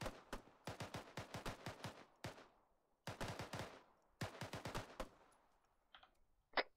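Gunfire in Arma 3 crackles in rapid automatic bursts, two long strings of shots separated by a short pause, close and sharp, with a few faint single shots trailing at the end.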